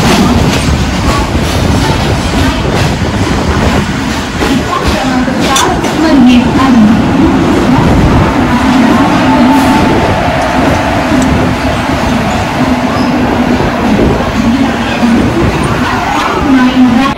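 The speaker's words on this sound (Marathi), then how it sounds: "क्रमांक दो पर आई हुई लोकल एक बजकर अड़तालीस मिनट की परेल जाने वाली धीमी लोकल है" A Mumbai slow local train bound for Parel at a busy platform, heard close with a loud, continuous rumble and clatter of the carriages, while people talk throughout.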